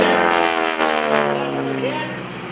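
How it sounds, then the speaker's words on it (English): A propeller airplane's engine during aerobatic maneuvers at the 2012 Greenwood Lake Airshow, a loud droning whine holding steady and slowly fading, with no voices over it. "Oh, he just loves doing vertical maneuvers for this airplane."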